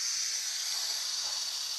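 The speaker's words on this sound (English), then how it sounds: "let's turn the stove on." Steady, fairly faint hiss of gas flowing from a Fire Maple FMS 125 Pro remote canister stove as it is turned on, continuous and even throughout.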